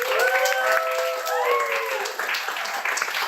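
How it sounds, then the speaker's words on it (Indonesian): Students applauding for a number-three student presidential candidate at a school event, steady dense clapping with cheering and tonal whistle-like voices running throughout. "Tepuk tangan dong."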